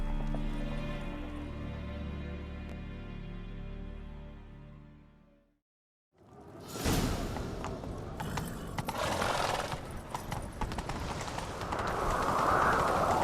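A horse gallops in The Witcher 3. The hoofbeats come in as a dense, driving rhythm after a brief silence, and rustling and clattering gear sit on top of the steady run.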